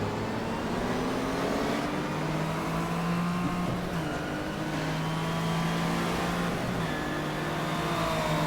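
Race car engine in the racing game GTR2 during a 1987 WTCC touring car race at Calder Park, a loud sustained engine note rising and falling through gear changes and revs, heard alone without talking.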